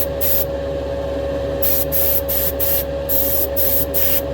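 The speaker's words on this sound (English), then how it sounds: "It's just my number one go-to airbrush." An airbrush sprays paint in a series of short, hissing bursts of varying length, close and fairly loud, separated by brief pauses over a low steady hum from the compressor.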